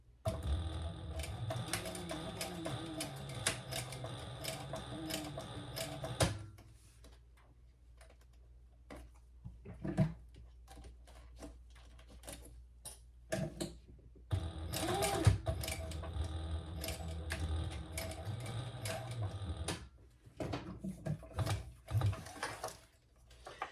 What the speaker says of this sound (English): So I'll do 2 rows of stitches.